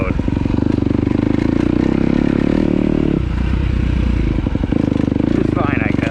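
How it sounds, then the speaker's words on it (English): A 2026 Kawasaki KX250 dirt bike engine rumbles loud and close with a low, steady drone that shifts pitch midway, engine braking in mellow mode as the bike slows. "A lot of engine braking in the mellow mode."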